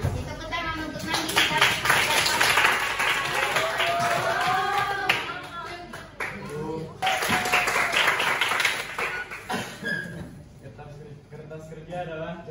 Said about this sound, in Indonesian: Tepuk tangan untuk Nandi.